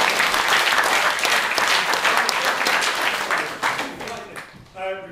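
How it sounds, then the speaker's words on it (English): An audience at a Threepenny Opera theatre performance bursts into dense, sustained applause that fills the room, then fades out while a voice begins speaking at the end. "Did a great job, round of applause."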